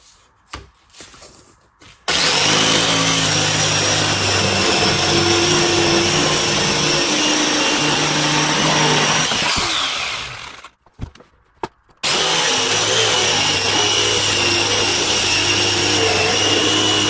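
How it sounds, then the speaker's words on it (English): A cheap bandsaw in a cluttered home workshop cuts through a wooden plank, a loud steady whine and buzz running for about eight seconds, dropping out briefly, then starting again near the end with no talk. "then we will go up to the bandsaw, which is a super cheapo bandsaw in my chaotic workshop"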